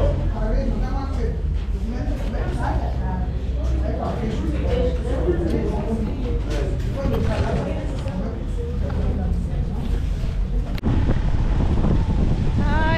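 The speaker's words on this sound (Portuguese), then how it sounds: "Ai, que vento fresco, que bom." Wind blows outdoors in São Tomé, rushing and buffeting against the microphone in a loud, continuous roar with gusty low rumble, while someone talks over it.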